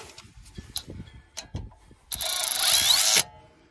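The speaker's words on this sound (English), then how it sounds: "Hit the trigger once more, and it kind of ratchets them down." Ryobi 3/8-inch cordless ratchet tightening brake bolts: a few brief mechanical clicks and taps, then a loud, steady whirring ratchet run of about a second that cuts off abruptly, heard close with no talk.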